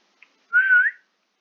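A person whistles a single short, clear note that bends slightly upward, loud and close, after a tiny click, with silence around it.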